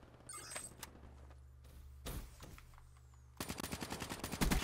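Gunfire from a Call of Duty match in Kill Confirmed mode, with scattered single shots early on, then a dense run of rapid automatic bursts growing louder toward the end, heard alone without talk.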